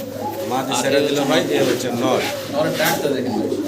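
A male red pigeon coos in a pigeon seller's loft: steady, close, rolling coos throughout, heard under someone speaking continuously.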